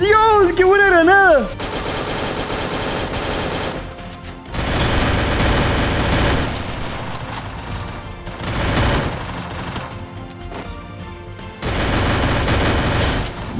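Grenade blasts and bursts of automatic gunfire in the Free Fire battle royale video game, loud and dense across the clip, with sustained rattling fire broken by heavy booms, following a brief tonal game sound at the start.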